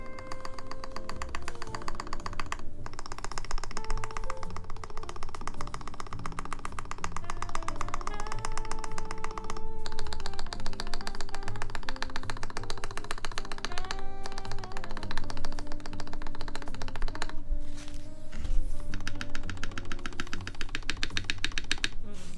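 A mechanical keyboard fitted with CRP Xerox keycaps clatters under steady, fast typing, its keystrokes dense and continuous throughout with an even, close-up sound.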